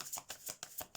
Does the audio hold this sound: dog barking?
no